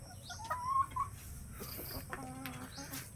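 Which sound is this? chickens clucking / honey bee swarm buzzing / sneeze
chickens clucking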